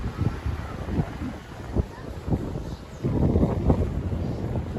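Gusty wind at a beach campsite buffets the microphone in low rumbling bursts, rising and falling, with no clear speech over it.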